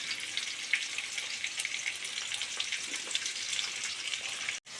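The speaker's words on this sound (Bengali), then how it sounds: "কড়ায় তেল গরম হয়ে গেছে, এবার একে একে আলুগুলো ছেড়ে দেব, দিয়ে ভেজে নেব আলুগুলো" Potatoes fry in hot oil in a wok, giving a steady, dense sizzle and crackle that holds at an even level throughout, with a brief break near the end.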